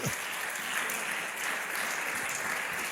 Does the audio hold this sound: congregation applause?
yes